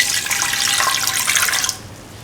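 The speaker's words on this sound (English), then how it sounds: "Pour in 150 ml of coconut milk." 150 ml of coconut milk is poured into a pan for carrot pasta. A steady, close liquid stream splashes for under two seconds, then stops abruptly, with no talking.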